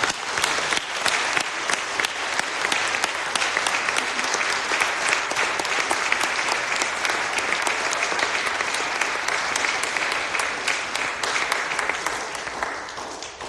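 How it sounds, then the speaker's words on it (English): A lecture audience at a Chesterton Academy lecture series applauds steadily for about thirteen seconds, a dense, even wash of clapping from a sizeable crowd that holds strong throughout and tapers slightly at the end. "So please, a round of applause for these."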